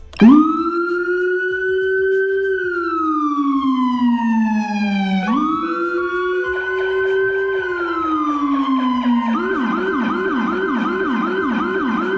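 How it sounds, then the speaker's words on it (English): A police-style electronic siren blares from a speaker, first a slow rising and falling wail that restarts, then shifting into a rapid, pulsing yelp, loud and continuous with no talking. "if we turn this on, then it will go on siren number 1, the one on this side"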